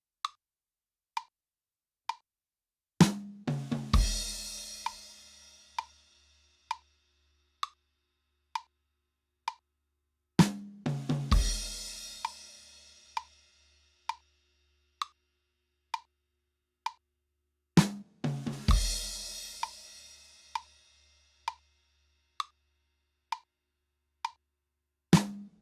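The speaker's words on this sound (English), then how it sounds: "It's just a 3-note fill that comes in on beat 4 and will sound like this." Drum kit playing a song with a steady click ticking throughout, and three times a three-note fill comes in on beat 4, each a quick burst of toms and cymbal crash ringing out, with no talking.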